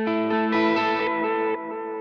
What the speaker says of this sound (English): I like that smeariness of the delays and the reverb kind of getting overdriven as well